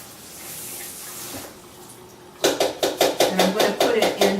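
Tricolor quinoa rinsed under running tap water, a soft steady flow, then a series of rhythmic sloshing, shaking pulses as the grains are drained in a strainer, loud and close.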